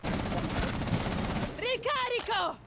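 Rapid automatic gunfire from the video game Rainbow Six Siege rattles densely for about a second and a half, then gives way to sharper electronic game effects and a few scattered shots.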